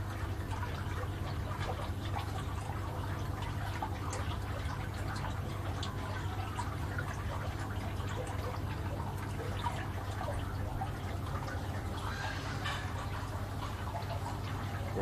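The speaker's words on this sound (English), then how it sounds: "Water still rushing in." Water from a small pump rushes and trickles steadily into an aquaponics grow bed, a continuous close splashing and gurgling flow with no voices.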